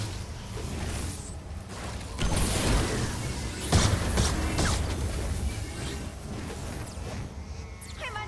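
Bees buzz in a video game storm, a dense insect drone under a steady rumbling game mix, with louder whooshing bursts rising and falling.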